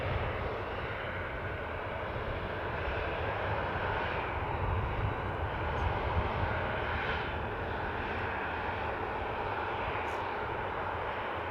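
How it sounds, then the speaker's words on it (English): A Ryanair Boeing 737-800 jet airliner at Manchester Airport roars steadily with a broad, continuous engine rumble that stays loud and even throughout, with no one speaking. "next up we've got a Ryanair 737-800 going to Rome"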